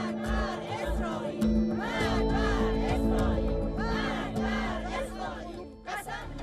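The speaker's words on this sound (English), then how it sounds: "crowds chanting "Death to America" and anti-Trump slogans" A large crowd chanting slogans together at a funeral procession in Iran, a loud, rhythmic mass of voices rising and falling in repeated waves, close and dense.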